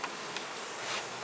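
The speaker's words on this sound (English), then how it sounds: "the bees just sit in there and they just kind of shake" Honey bees at a beehive super during honey harvest give off a faint, steady buzzing hum with a few brief louder swells, heard alone for just over a second.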